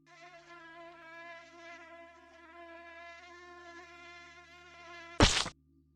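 A mosquito whines steadily and close in a GTA Online game, its thin high buzz wavering in pitch, until a sharp loud burst cuts it off near the end.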